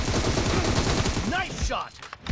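Dense, loud gunfire in a shooter video game, rapid automatic bursts over a busy game soundtrack with a short game voice line briefly heard through it.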